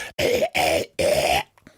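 Three harsh coughs in quick succession, close and fairly loud, followed by a brief quiet breath.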